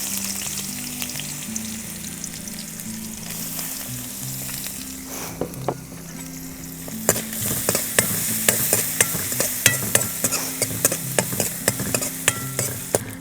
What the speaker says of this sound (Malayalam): എണ്ണ ഒഴിച്ചു, നമുക്ക് അതിൻ്റെ അകത്ത് തേങ്ങ കൊത്തിട്ട് വറുത്തെടുക്കാം.